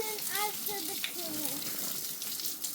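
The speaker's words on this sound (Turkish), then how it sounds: "Suyu da çok açmışsın." Water gushes and hisses steadily from a tap, nearby and continuous, while a voice talks over it.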